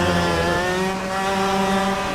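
Racing kart engine revving steadily in the video game Kartkraft, a continuous buzzing drone with rising harmonic tones held at a loud, even level throughout with no pauses.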